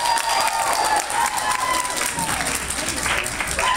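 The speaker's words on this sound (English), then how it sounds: "Give yourselves a round of applause." Audience applause and cheering at an evening show fills the space, a dense, steady wash of crowd noise throughout with voices mixed in.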